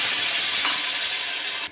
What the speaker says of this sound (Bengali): এবার মাপ অনুযায়ী আমি আমার জল দিয়ে দেবো, 1 বাটি জল দিয়ে দেবো।